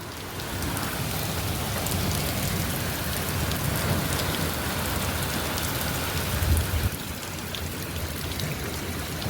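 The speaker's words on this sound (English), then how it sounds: "This is the heaviest rain I've seen since I moved here." Heavy monsoon rain pours down in a dense, constant roar of drops hitting surfaces, with a low rumble of distant thunder partway through.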